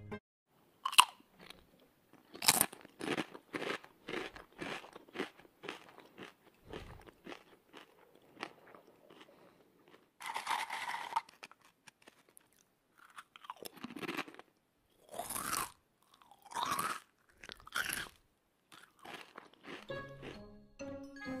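Lay's potato chips being crunched and chewed close up, loud brittle crackling bites in irregular bursts with quiet gaps between.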